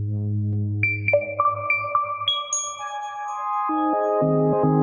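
A synthesizer plays a short sequence of sustained electronic tones that step through different pitches, clean and bright, with no talking.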